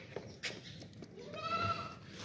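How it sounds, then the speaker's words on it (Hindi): A long-eared goat stands calmly nursing its kid on a farm, giving a short nasal bleat near the end over a soft background murmur and rustle, close by. "बकरी आराम सुकून से खड़ी है और जो बच्चा है वो दूध पी रहा है।"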